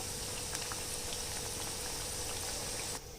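Dal wada batter fries in hot oil over a medium flame, giving a continuous dense sizzling and bubbling hiss with small pops, steady throughout and slightly quieter at the very end.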